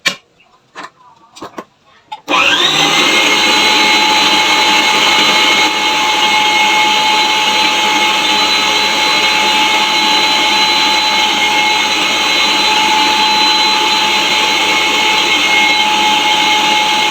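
An electric mixer whirs steadily through ube cheesecake batter in a bowl, loud and continuous after a few brief knocks at the start.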